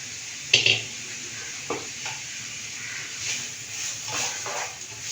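Finely chopped onions hit hot oil in a pan and are stirred, a soft sizzle under a few scraping clinks of a spoon against the pan, fairly quiet with no voices.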